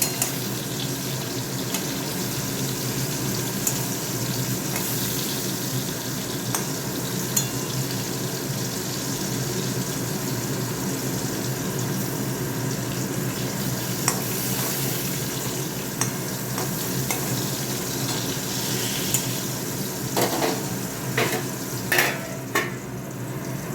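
Slices of teasel gourd fry in a pan with a continuous soft sizzle; a few scattered clinks appear, and a cluster of louder scraping stir strokes comes near the end, no one talking.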